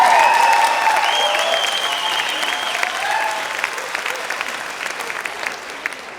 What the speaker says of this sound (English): Major round of applause for them